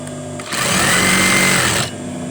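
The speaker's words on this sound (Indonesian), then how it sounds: "lanjut kita jahit" A sewing machine stitches curtain fabric in one loud, steady whirring run of about a second and a half, starting and stopping abruptly against a quiet background.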